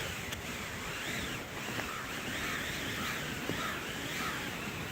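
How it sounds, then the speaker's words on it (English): Crows caw repeatedly over steady, loud howling wind during a spring blizzard in Minnesota, the calls rising and falling through continuous gusty noise. "I guess you can hear the crows through the wind howling."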